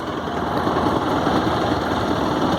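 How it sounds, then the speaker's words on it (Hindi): A 2021 Bajaj Pulsar NS 200 motorcycle engine running as a ride begins, a steady buzzing drone with a slight rise in strength after the first moment, close and loud with no talk. "And now I'll gear up and start my ride."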